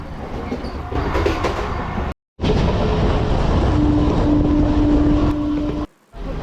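The inside of a MEMU passenger train, number 67204, running from Renigunta to Nellore. Steady loud rumble and rhythmic wheel clatter, with a thin squeal in the middle and two brief cuts.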